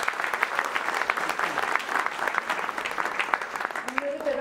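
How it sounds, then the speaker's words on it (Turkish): Applause for sailing athletes at an ILCA selection medal ceremony, a dense, steady crowd clapping that carries on for several seconds before fading slightly at the end. "için hep beraber alkışlamak istiyorum."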